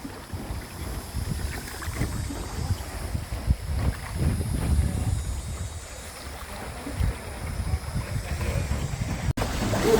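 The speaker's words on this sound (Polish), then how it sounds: "a tutaj dokładnie widać, jak oni wiosłują" A small boat rowed with the feet on the river at Tam Coc, Vietnam, heard as continuous water splashing and paddle strokes under steady wind noise outdoors, with no talking.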